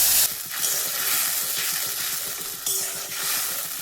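Spice paste hits hot oil with fenugreek and bursts into loud sizzling, a dense frying hiss with sharp surges as it is stirred, no voices.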